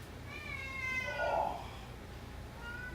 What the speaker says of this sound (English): Oh, there's Ollie Kitty